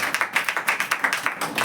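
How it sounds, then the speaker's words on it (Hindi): An audience claps in steady, rhythmic unison during a church sermon, about a dozen quick, sharp beats repeating evenly, close and fairly loud, with no other sound between them. "ये हम लोग ताली मारेंगे।"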